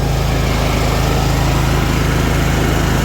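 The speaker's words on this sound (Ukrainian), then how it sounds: "а генератор працює стабільно" A WEIMA WM1110-A petrol generator rated 9.5 kW runs close by under heavy load from a 3 kW heater, putting out a loud, even engine drone with a steady low hum and no pauses.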